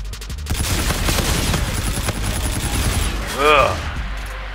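A dense burst of rapid gunfire from a Call of Duty Infinite Warfare match crackles loudly over the first three seconds, then gives way to a brief whooshing effect, with a voice faintly underneath.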